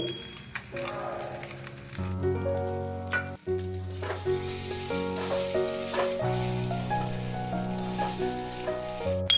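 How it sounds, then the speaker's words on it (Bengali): Fried prawns and chicken being tossed into chow mein in a hot pan, a steady loud sizzle running throughout beneath sustained music tones. "এবার আমি দিয়ে দেবো ভেজে রাখা চিংড়ি মাছ আর চিকেন"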